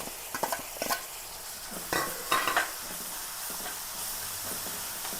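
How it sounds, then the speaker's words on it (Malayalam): Crushed onion, ginger and garlic frying in a pan, a steady sizzle broken by a few sharp clattering stirs and scrapes, close by with no voices. "ഇനി ഇതിലേക്ക് ഉള്ളി ചതച്ചതാണ് ഇട്ട് കൊടുക്കുക. ഇഞ്ചി വെളുത്തുള്ളി ചതച്ചതാണ് ഇട്ട് കൊടുക്കുക."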